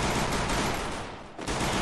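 Rapid sustained gunfire in the mobile game Free Fire, a dense loud burst that dips briefly before resuming.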